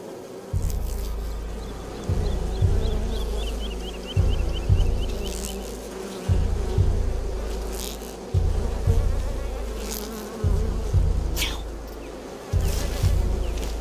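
Bees buzz in the game A Plague Tale: Requiem, a close, steady insect drone over a repeating low pulsing rhythm of music, with a few faint chirps in the background.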